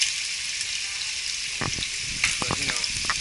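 Hot oil and grease sizzling and spattering in a frying pan on a stovetop while short ribs cook, a steady close hiss with sharper crackles and pops bursting through in the second half.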